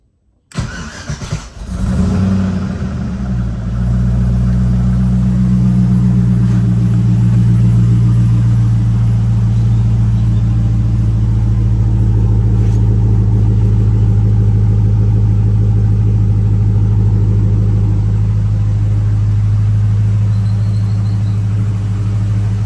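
Mercedes C230 with an LS engine swap cranks briefly, catches and fires up, then settles into a steady, deep, loud idle that runs smoothly and evenly for the rest of the clip, with no voices.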